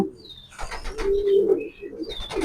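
Young pigeons cooing and chirping softly up close, a few short warbling calls over a low murmur.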